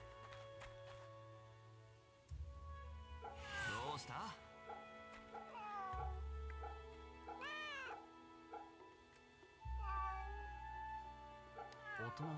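A cat in the video game Fate/Samurai Remnant meows several times in short rising and falling calls, clear and close, over a steady low in-game background hum.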